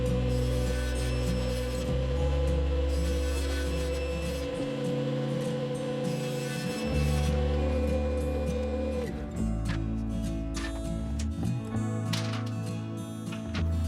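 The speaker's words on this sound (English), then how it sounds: "we'll just rip down some scrap 1/4 inch plywood and fill those gaps" Table saw ripping scrap quarter-inch plywood in a workshop, a loud steady motor whine with rough cutting passes that rise and drop over several seconds, no talking.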